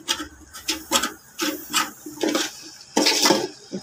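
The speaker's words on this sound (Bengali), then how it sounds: "একটু নেড়ে চেড়ে একটু কষিয়ে নেব, তারপরে আবার এর মধ্যে চালগুলো দিয়ে দেব।" Khichuri with lentils being stirred and sautéed in a pot, with a series of scraping, rubbing strokes in an uneven rhythm, close and moderately loud.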